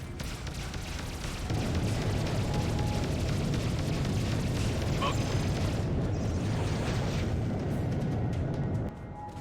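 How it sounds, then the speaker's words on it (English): Enemy weapons fire and explosions roar in space combat in the game Freelancer, a dense, continuous loud barrage of blasts and rumbling booms lasting several seconds before cutting off. "Got him. Enemies firing!"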